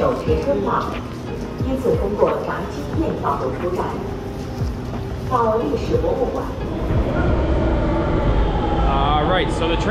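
Steady rumble and clatter inside a moving train carriage in China heading downtown, with occasional squeals and bumps, and people talking over the noise.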